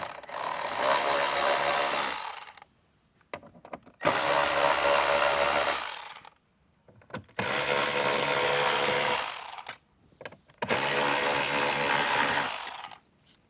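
A 7mm socket on a powered driver backing out bolts on a Jeep Wrangler, four whirring bursts of about two to three seconds each, separated by short pauses, close and loud, with no talking.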